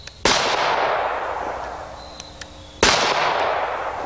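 Two loud, close gunshots from hand-loaded cartridges crack about two and a half seconds apart, each followed by a long booming decay outdoors.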